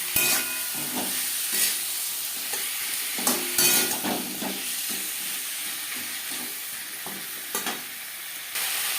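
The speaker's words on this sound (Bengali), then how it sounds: "দু তিন মিনিট নাড়াচাড়া করে নেওয়ার পর" Ginger and green chili paste fries in a pan with a loud continuous sizzle and hiss, while a spoon stirs through it in repeated scraping strokes close by.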